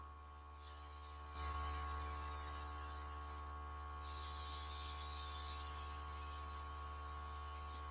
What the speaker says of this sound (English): that level of spray that comes out depending on how far back you pull the airbrush